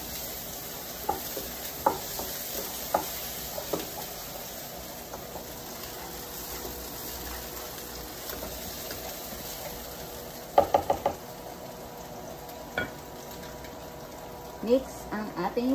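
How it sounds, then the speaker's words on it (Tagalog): Garlic sautéing in a pan for chicken and tofu gives a steady soft sizzle throughout, with occasional clinks and scrapes of stirring, a brief cluster of louder taps near the middle and a few more toward the end. "Igisa natin ang ating bawang."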